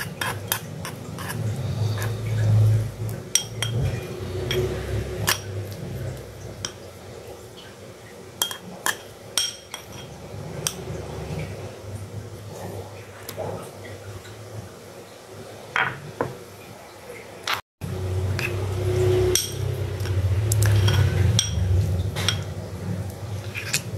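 Dishes and utensil sounds: a spoon stirs yeast into water in a bowl while making fried bread dough, with scattered light clinks and scrapes against a low background hum, briefly cut off near the end.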